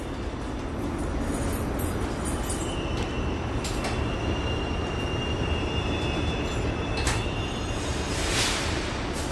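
A New York City subway Q train in Brooklyn running steadily with a continuous low rumble of wheels on track, a high wheel squeal and brief metallic clanks, heard from inside the first car, with no talking.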